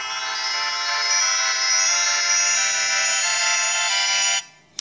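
A steady electronic ringtone from a NO.1 G5 sport smartwatch, dense high tones playing loudly and continuously for over four seconds, then cutting off abruptly.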